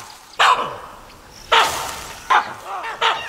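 Baboon alarm calls ring through a forest with a leopard nearby: sharp, loud barking bursts repeated four or five times at uneven intervals, each breaking off into quieter gaps.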